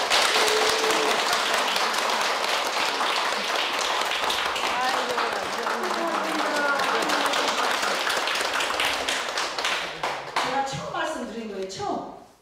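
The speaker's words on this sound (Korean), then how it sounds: "우리 박수 한번 쳐줄까요?" Applause from a group of elderly-care workers honoring a long-serving team leader, sustained clapping with distinct hand claps, with some voices mixed in, tapering off over the final seconds.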